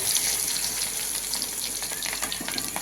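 Cut papaya and potato pieces hitting hot oil seasoned with cumin seeds, giving a steady close sizzle and crackle that holds throughout with small bursts of spattering.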